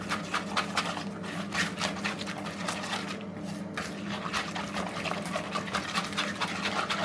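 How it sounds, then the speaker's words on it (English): Batter of milk and eggs for Yorkshire toad is whisked briskly in a bowl, a close, rapid, steady rhythm of wet tapping and sloshing strokes that continues without pause. "I'm just going to whisk this up into our batter"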